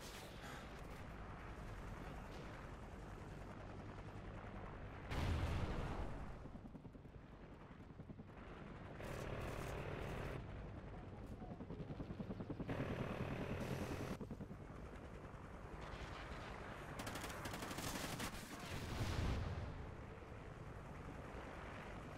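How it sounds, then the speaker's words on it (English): Helicopter rotor drone and bursts of gunfire from the Call of Duty Ghosts video game, with loud booming impacts around 5, 13 and 19 seconds over a continuous dense battle din. "chopper inbound."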